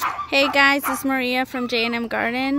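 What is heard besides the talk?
excited dogs barking after owner gets home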